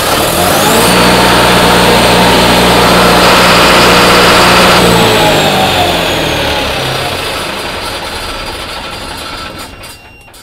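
A generator engine started by hand with its run switch, running loud and steady for about five seconds with strong low harmonics, then its pitch and level easing down as it tapers off toward the end.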